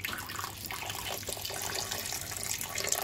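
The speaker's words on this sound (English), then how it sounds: "So I'm gonna pour the water into." Water pours steadily into a kitchen blender holding peppers for a spinach soup, a soft, continuous splashing trickle that stays fairly quiet throughout, with no talking.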